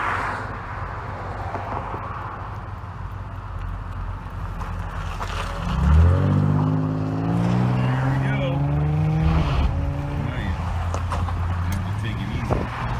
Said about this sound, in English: traffic out the yin yang